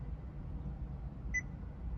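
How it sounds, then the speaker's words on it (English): A single short electronic beep, high and clean, from a 2023 Honda Elevate infotainment unit, sounds once over a low steady hum. "Then you have the beep of this unit,"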